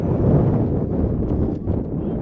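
Gusty wind buffets the microphone on a cold day at an outdoor high school boys' soccer game, a loud low rumbling roar that swells and dips throughout, with faint voices in the background.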